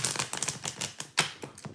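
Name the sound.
tarot cards being shuffled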